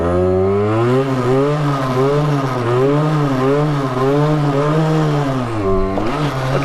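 Gilera SMT 50 50cc supermoto two-stroke engine revving loudly and close, rising and falling in repeated waves as the throttle is blipped for a wheelie, ending in a sharp burst of revs.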